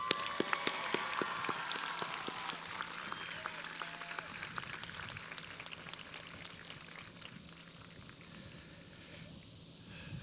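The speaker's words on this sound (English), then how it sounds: "Now you can clap." Graduates at a university commencement applaud, dense clapping that starts strong with sharp claps near the front and slowly thins and fades over about ten seconds.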